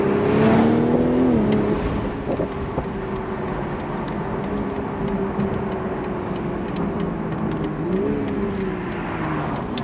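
BMW Z4 M40i with the B58 six-cylinder engine accelerating, its engine note rising and falling through gear changes at moderate distance, muffled under steady cabin and road noise, with no talking.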